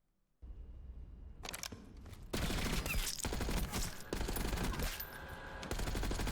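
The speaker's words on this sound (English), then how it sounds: "While you're sitting in the pregame lobby, dude, sit here, just shoot your gun." Rapid gunfire from a Call of Duty firing range rattles loudly and nearly continuously, with dense bursts of automatic shots following a brief quiet opening.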